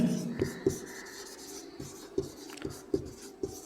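Chalk or marker strokes on a board during a physics lesson on charging by friction, a series of short scratchy taps and scrapes spaced irregularly, close but fairly quiet against a soft room background.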